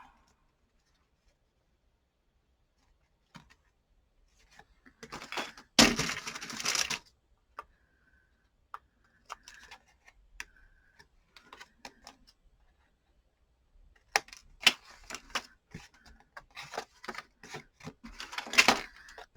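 Scissors cutting a tag shape from a printed book page, heard as close, crisp snips and paper rustles in two main clusters, separated by near-silent pauses.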